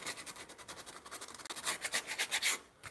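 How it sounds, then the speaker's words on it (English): Rhythmic back-and-forth strokes of fine sandpaper rub across the wood of a bunk bed, close and soft at first, then growing stronger and faster before a brief pause. "And then you can use a little finer sandpaper."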